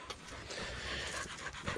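Dogs panting steadily on a morning walk, the quick rhythmic breaths close by and fairly quiet, with a faint whimper at one point.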